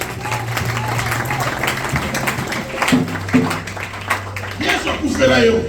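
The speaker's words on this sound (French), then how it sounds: "Alors acclame Jésus." A church congregation applauds and acclaims Jesus, loud clapping and cheering from a crowd with raised voices and music running underneath.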